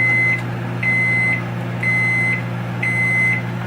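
Microwave oven running with a Peep marshmallow inside, a loud steady hum with a high tone that pulses on and off about once a second, four times.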